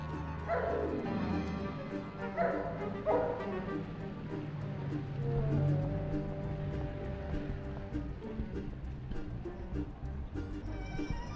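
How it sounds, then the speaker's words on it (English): Crazy dog guarding a courtyard entrance in the PlayStation 2 Ratatouille game, giving a few barks and yips early on under steady game music and ambience. "The bad news is there's a crazy dog guarding the entrance to the courtyard."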